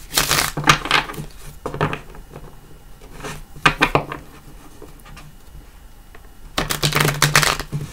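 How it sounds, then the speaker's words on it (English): Bursts of riffling, papery tarot card shuffles come in several quick clusters with quieter gaps between, close to the listener, and no talking over them. "So we're just going to do one or two shuffles."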